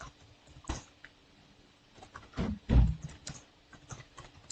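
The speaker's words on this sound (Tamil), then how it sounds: "நான் கோட்ஸை ஃபுல்லாக டைப் பண்ணிடுறேன்" Computer code is typed on a keyboard in a quiet room, with soft, irregular key taps and a couple of heavier strokes, close and faint, with no talking.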